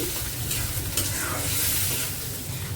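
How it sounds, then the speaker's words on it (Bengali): Puli pitha made with dried chepa fish fries slowly in a pan, giving a steady close sizzle with soft stirring and scraping throughout. "কুম্মা আস্তে আস্তে ভেজে নিবে"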